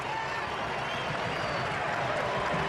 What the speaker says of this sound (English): The German faithful in the crowd erupt.